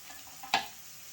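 A brief stir and sizzle of ingredients frying in a pan for tomato chutney with red chillies, one short scraping burst over a faint, steady background.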